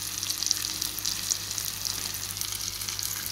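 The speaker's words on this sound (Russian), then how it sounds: "решила всю сразу рыбу на сковородку положить" Red fish fries in a crowded pan of oil, giving a soft, continuous sizzle with small crackles and pops. It is steady and fairly quiet, with no talking.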